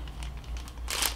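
A plastic bag crinkles as it is folded over, soft rustling that swells into a short, loud crackle at the end, close by over a low background hum.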